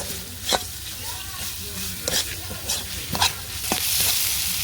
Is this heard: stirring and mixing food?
yes